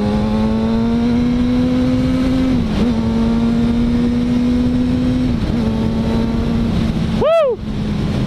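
A Kawasaki 636 motorcycle engine drones loud and steady at high revs while riding, pitch dipping briefly at two shifts, with a fast vehicle whooshing past near the end.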